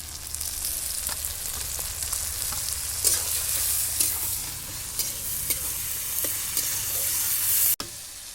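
Spice paste frying and being stirred in hot oil for a fish curry, a steady sizzle with scraping stir strokes throughout, a sharp clatter near the end.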